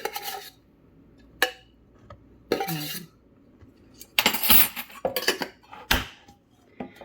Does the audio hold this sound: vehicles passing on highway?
no